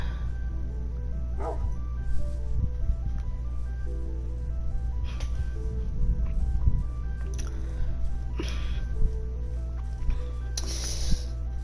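A dog barks and yips in short separate bursts at moderate distance over a steady low hum, with faint whimpers between the barks and a thunderstorm outside.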